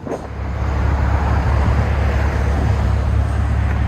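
A silver Ford F-350 with a 7.3L gas V8, used for towing a boat, rumbles steadily through its aftermarket exhaust as it backs out, a deep continuous low drone close by with no talk.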